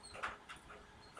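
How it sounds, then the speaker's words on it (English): Black dog whimpering indoors on a rainy day, two or three faint, brief high whines in quick succession, soft and close with no talk. "I guess my dog Bean is talking. Yeah, she's talking. She's not happy"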